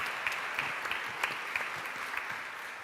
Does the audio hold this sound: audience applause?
yes